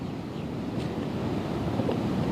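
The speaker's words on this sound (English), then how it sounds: "It's definitely windy still on the beach." Strong wind buffeting the microphone on a beach by a pier during a coastal storm, a continuous low roar and rumble with surf mixed in, steady and loud throughout with no talking.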